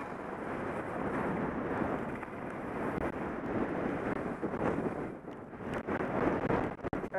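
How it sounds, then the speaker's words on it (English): Strong gusts of wind, up to 50 miles an hour, roar on a high mountain work road, buffeting the microphone in a loud, continuous rush that swells and dips. "Hear the wind, and then there are gusts of 50 miles an hour up here"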